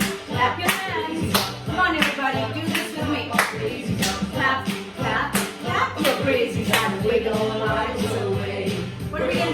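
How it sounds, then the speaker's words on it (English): Rhythmic hand claps from a kindergarten class joining in a clapping song, steady repeated claps in time with music and a singing voice throughout. "We're gonna clap, clap, Clap your hands."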